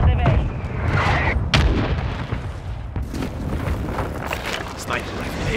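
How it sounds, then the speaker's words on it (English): Mortar strike explosions in a video game, heavy booming blasts and rumbling impacts rolling one after another under ongoing battle noise, with a voice talking over them. "Friendly mortar strike on the way."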